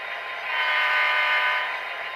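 Tsunami sound decoder in an Athearn Genesis SD45-2 model locomotive giving a steady electronic diesel engine and horn-like drone that swells slightly and stays even through the short stretch, with no one speaking.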